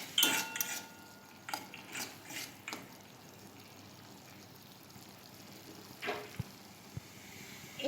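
A spoon scrapes and clinks against a cooking pot while stirring fried spices with turmeric and Kashmiri red chilli powder for a fig and mutton curry: faint, intermittent metallic scrapes and taps, with a few quiet gaps between them.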